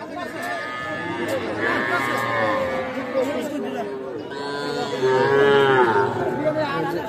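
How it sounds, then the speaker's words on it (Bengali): A young native-breed bull calf moos loudly at the Ambari cattle market, drawn-out calls rising twice amid constant crowd chatter and other livestock nearby. "ষাঁড় বাচ্চা দেশি জাতের।"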